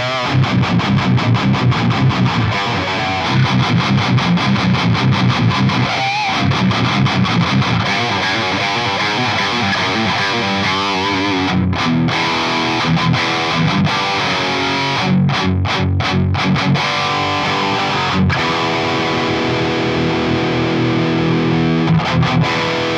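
Dense, saturated electric guitar through an overdrive pedal with gain rolled off into a 1994 Crate GX600 amp, a thick overdriven crunch, played continuously and loud, with sustained chords and brief choppy breaks.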